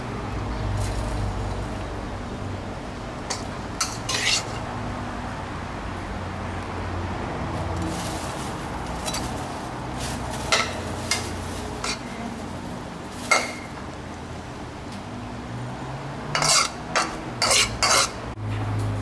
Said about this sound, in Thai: เดี๋ยวเราจะตักขึ้นมาราดบนก้างปลาที่เราทอดไว้